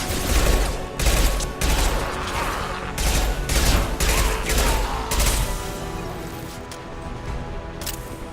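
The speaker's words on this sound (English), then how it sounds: "Firing now." Bursts of loud gunfire in the PC game Mass Effect 2, several heavy volleys in quick succession, then easing into a quieter mechanical hum.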